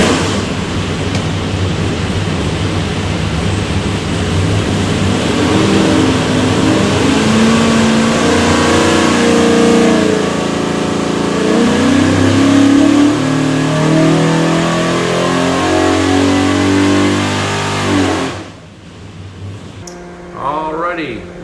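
A 489ci big block Chevy V8 revs hard on a dyno, a loud sustained roar that climbs through the rpm range for about eighteen seconds before cutting off abruptly, followed by a brief low idle burble.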